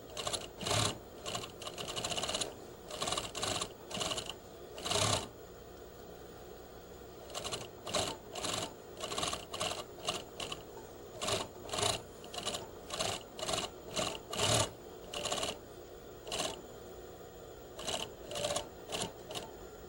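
Sewing machine attaching a waistband to a garment, running in short repeated bursts of rapid close stitching separated by brief pauses, with no talking.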